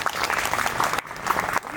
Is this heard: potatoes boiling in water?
no